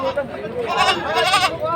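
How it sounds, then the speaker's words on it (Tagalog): A Boer buck goat at a livestock market in Padre Garcia, Batangas, gives a wavering bleat close by, mixed with people talking. "Bower ho ang lahi ng kambing na ito."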